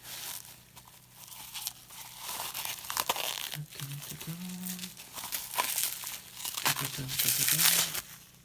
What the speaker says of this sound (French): nous avons tout plein de papier bubule